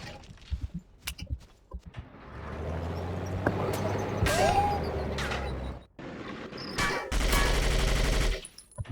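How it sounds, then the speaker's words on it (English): A captured M60 machine gun fires in Battlefield Vietnam in short, sharp bursts, with a longer loud volley near the end and rumbling vehicle engine noise in between. "now I'm using a captured M60 machine gun to take out their forces"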